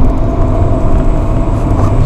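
A stock Honda Civic MB6 1.8 VTi VTEC with 169 hp accelerates hard, its engine drone steady and loud throughout, heard from inside the car with no talking.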